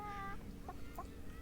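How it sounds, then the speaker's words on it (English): A cartoonish chicken clucks in the hand-drawn hidden-object game Hidden Folks, giving two or three short, soft clucks over a quiet ambient background. "This chicken was a single bite-sized dinner."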